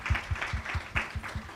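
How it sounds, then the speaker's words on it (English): An audience at a public policy dialogue event applauds panel members with steady, rhythmic clapping that has fairly even beats and a few stronger accents. "Can we please have a round of applause?"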